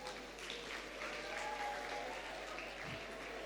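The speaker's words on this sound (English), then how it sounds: "please give them another round of applause" An audience at a school composition competition event applauds after a performance, steady dense clapping filling the room at moderate loudness throughout, with no voices over it.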